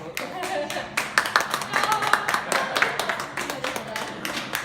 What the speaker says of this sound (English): Can we give Joanna a round of applause?